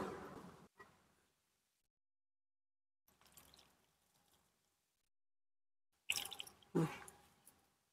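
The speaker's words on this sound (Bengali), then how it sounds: "তালটাকে একটু ধুয়ে নিই প্রথমে।" A palm fruit is rinsed with water, giving sparse, quiet splashes and drips in short clusters separated by near silence, with a louder splashy burst near the end.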